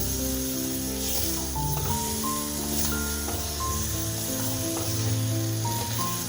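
Tomato, potato and cauliflower get stirred into sizzling spices in a pan, making a continuous hissing fry with faint scraping and soft background music.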